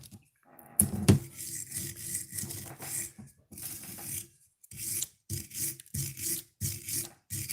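Hand-filing or chasing the threads on a metal hot rod part, short rasping strokes in uneven bursts, close and fairly quiet, with a sharp metallic clink near the start.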